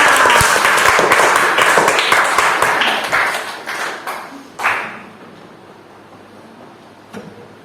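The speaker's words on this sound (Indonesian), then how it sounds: "beri tepuk tangan untuk kalian semua" Students in a classroom clap together after a counting exercise, a short burst of loud, close applause that tapers into a few separate claps and then quiet, with one last clap near the end.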